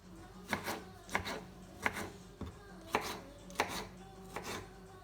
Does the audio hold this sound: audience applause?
no